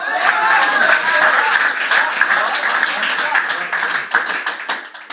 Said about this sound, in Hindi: तुम तालियां तो बजाओ